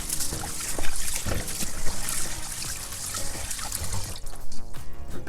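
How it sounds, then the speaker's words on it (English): Rice being washed by hand in water for Liberian dry rice: steady sloshing, swishing and trickling with scattered grainy clicks, close and continuous, with the water becoming more dripping toward the end. "I'm going to be washing my rice 3 times."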